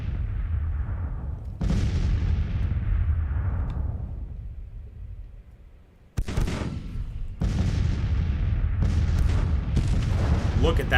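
Civil War cannons from the Battle of Bull Run in Grand Tactician: The Civil War, a series of deep booming shots rolling and fading, some close and loud, with talk now and then.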